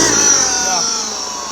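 Car engine with a clogged diesel particulate filter revs up, a strained roar with a steady high whine that eases slightly over a brief moment, close and loud.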